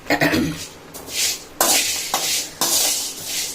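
Black peppercorns and cumin seeds dry-roast in a pan for homemade chilli powder, with several sharp scraping and rattling stirring strokes in short bursts, fairly close and clear.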